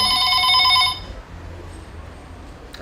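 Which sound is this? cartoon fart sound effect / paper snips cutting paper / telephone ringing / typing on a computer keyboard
telephone ringing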